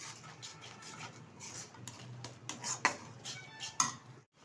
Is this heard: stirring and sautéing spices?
yes